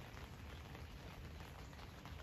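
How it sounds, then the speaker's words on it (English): Steady rain falling on a Sunday morning in a garden with a Pandorea jasminoides climber, a faint, even, continuous hiss with no distinct drops or other sounds and no voices. "and it's raining."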